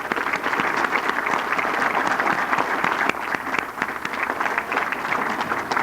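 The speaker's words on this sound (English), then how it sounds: "So I think they need a real round of applause once again." An audience at the 1998 NEAR Hall of Fame induction ceremony breaks into sustained applause, a dense, even clapping that fills the room for several seconds.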